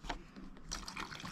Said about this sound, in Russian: У нас закончилась вода в баке. Сейчас заправим бак,